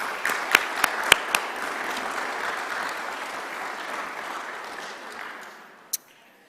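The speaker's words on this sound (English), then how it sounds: "if I could ask for a round of applause for our board of directors" A round of applause for a board of directors at a charity gratitude evening: steady, moderately loud clapping from a seated audience, with a few sharper individual claps standing out early and near the end as it tapers off.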